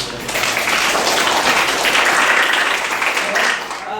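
An audience claps together at a project-based learning session, a dense burst of applause that swells and holds for a few seconds before tapering off.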